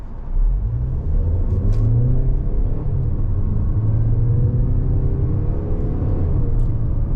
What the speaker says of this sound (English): Let's try our downshift.